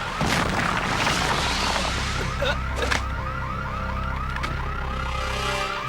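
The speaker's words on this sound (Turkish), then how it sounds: "Güvenlik alarmı." A loud electronic laboratory security alarm in an animated series cycles through a rapid, repeating warbling chirp pattern, continuous and close, over a low steady rumble.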